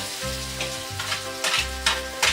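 Chow mein noodles frying in a hot pan, a steady close sizzle with a low hum beneath and brief louder bursts of crackle as they are tossed.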